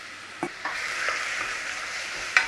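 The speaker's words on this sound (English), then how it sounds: "we're going to saute the onions and garlic" Onions and garlic sauté in a pot with a steady hissing sizzle, broken by a few soft knocks and scrapes of stirring.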